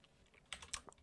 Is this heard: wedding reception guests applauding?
no